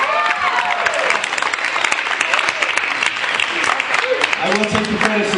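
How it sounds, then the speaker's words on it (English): Audience at a live comedy show in the Oneonta Theater applauding steadily for several seconds, dense clapping with a few cheers, a voice emerging near the end as it fades. "please another round of applause for Mark Norman"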